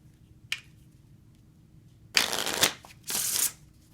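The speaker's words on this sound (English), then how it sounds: "Now we're going to do an in the hands riffle shuffle," Playing cards riffle-shuffled in the hands: a single short flick, then two loud fluttering riffles of about half a second each, close and crisp, with no talking.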